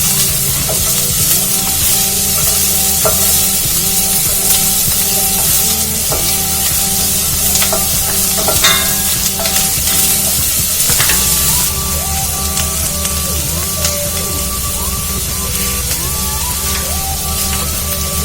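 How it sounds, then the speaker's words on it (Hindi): Sliced onions frying in oil for Mumbai-style kanda poha, sizzling steadily and close up while a spoon stirs and scrapes the pan now and then, with no voices over it. "प्याज को ब्राउन करना है।"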